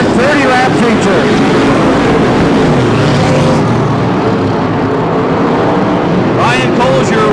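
IMCA modified open-wheel race cars roar around a dirt track at the Bakersfield Dirt Track Nationals, a loud, continuous engine drone with cars passing. Excited commentary runs over the noise throughout.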